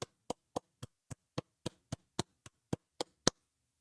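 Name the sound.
applause on a live stream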